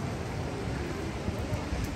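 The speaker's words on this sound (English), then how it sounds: "It's raining." Rain falls steadily by the Danube at Handelskai in Vienna, a dense, even hiss of drops with faint, scattered impacts and no clear voices.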